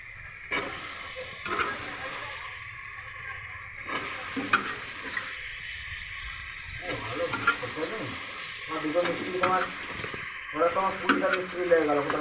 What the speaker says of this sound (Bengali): এবার কচুটা আলুটা দিয়ে দেবো।